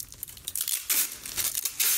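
Tape tears and crinkles close by while a flower arrangement is put together, a run of short crackling rips and rustles that grows louder toward the end, with no one speaking.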